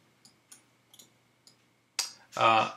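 Several light, evenly spaced computer mouse clicks, soft and close, followed by a person speaking.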